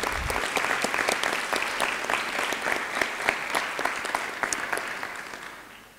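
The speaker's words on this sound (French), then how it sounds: "On va applaudir cette thèse. Et on applaudit quand même la thèse" During a doctoral diploma ceremony at a French university, a crowd in a hall claps steadily for several seconds, with dense, close applause and distinct individual claps cutting through before it tapers off.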